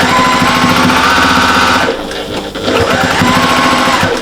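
A sewing machine runs loud and close, stitching along the seam of a patchwork and appliqué cushion in a fast steady whirr, with one brief slowdown midway before it resumes.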